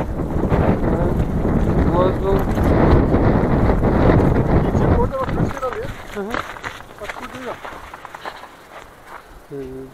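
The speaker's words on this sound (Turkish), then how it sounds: "Burası oldukça esiyor." Strong gusts buffet the microphone while cycling along a snowy dirt road on a windy strait, a loud roaring rumble that eases toward the end as a voice talks over it.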